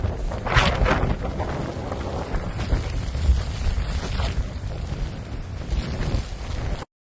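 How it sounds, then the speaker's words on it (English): Strong blizzard wind of 25 to 30 meters per second in Russia roars and buffets continuously, with hard gusts thumping against the microphone and no other sounds. "The wind is 25 to 30 meters per second."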